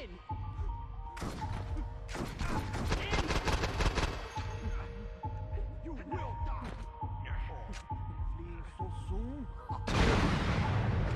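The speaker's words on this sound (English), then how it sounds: "You just try to fire a rocket launcher at me?" Saints Row 2 combat with a rocket launcher firing: a dense run of loud gunfire bursts and heavy blasts, ending in a wide roaring explosion, while someone talks over the action.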